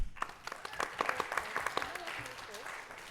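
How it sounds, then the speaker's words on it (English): An audience at a student club event applauds presenters with a short round of scattered claps, fairly quiet and close, while people talk over the clapping. "let's give them another round of applause."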